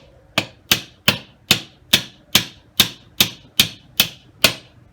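Eleven sharp metallic taps ring out at an even, steady pace as a hammer knocks the lock ring into place on a 1929 Buick split rim; each strike is loud, close and isolated.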